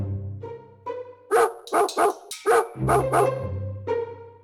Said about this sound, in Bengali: চারদিক থেকে গ্রামের কুকুরগুলো চোর শেয়ালকে ঘিরে ফেলল